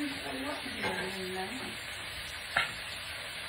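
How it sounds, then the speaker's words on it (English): Pork chops sizzle steadily in a pan with a soft frying hiss, while a voice speaks briefly and a sharp clink of cookware lands near the end. "if the frying over there is too loud"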